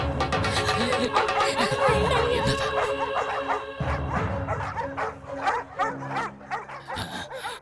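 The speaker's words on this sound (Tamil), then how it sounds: "என் வீட்டுக்குள்ள எப்படி நாய் வந்தது?" A dog barks and yips repeatedly in an indoor scene of a Tamil-dubbed horror film, loud and close, with whimpering and a bit of laughter mixed in.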